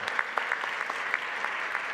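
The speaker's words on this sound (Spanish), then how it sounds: "Un aplauso nuevamente para Beatriz." An audience at a genealogy expo claps in a recognition moment, with a steady patter of hands and a few sharper claps standing out.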